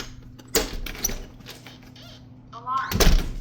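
The back door of a house with a Vivint alarm system is opened during a test, with a couple of sharp thuds and a rattle, while faint voices are heard.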